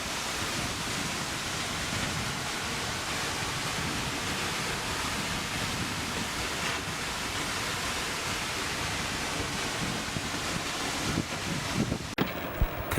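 Steady roar of an Icelandic glacial-melt waterfall, a broad unbroken rush of falling water heard close and constant throughout, with a soft bump near the end and no talking.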